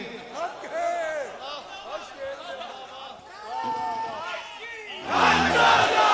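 A crowd at a religious gathering, led by an Urdu-speaking cleric, chants a slogan in call-and-response bursts, with a louder roar of voices toward the end.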